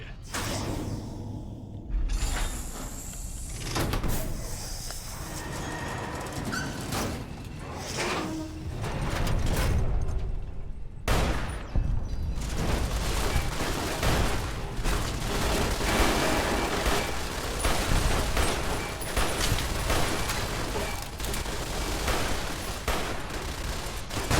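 Gunfire in Fallout New Vegas, a dense, loud stretch of shots and clattering mechanical noise that runs almost continuously after a few scattered early bangs.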